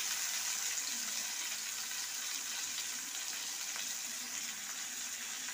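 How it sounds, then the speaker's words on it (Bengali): Tomato, a small whole onion, garlic cloves and ginger frying in a pan, giving a steady, even sizzle and hiss that holds throughout with no pauses. "এটা ভালো করে ভাজা হয়ে গেছে।"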